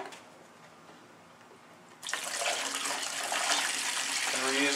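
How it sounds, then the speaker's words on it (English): Used paint gun cleaning liquid is poured through a funnel back into a bucket. After a quiet start, a steady splashing, trickling pour begins abruptly and continues loud and close to the end. "get a funnel, and then you can pour back in"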